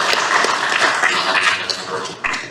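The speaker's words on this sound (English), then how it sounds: "I want all of us to give a round of applause to" A seated audience at a university business school event applauds the quiz teams, with dense, steady clapping close by and some voices mixed in underneath for the whole stretch.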